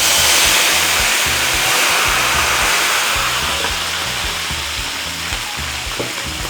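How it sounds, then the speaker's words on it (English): Meat sizzling and frying in a pan while preparing Ghanaian jollof rice, a steady dense hiss with faint crackle that stays fairly loud throughout and eases slightly toward the end. "The meat is ready. I have to remove it and I'll fry it."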